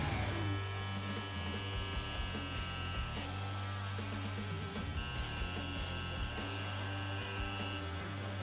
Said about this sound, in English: we're pretty much done with the fading and the lining up with the trimmers